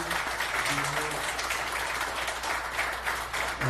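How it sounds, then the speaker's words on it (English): An audience applauds at a Baldwin Park city council meeting: steady, dense clapping fills the room at a moderate level for several seconds with no talk over it. "So give another round of applause."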